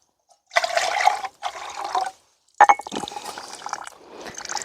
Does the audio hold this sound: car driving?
no